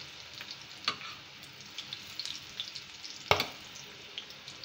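A fresh batch of egg pakoras goes into hot oil, giving a quiet continuous sizzle with fine crackles and two sharper pops or clinks, heard up close with no speech.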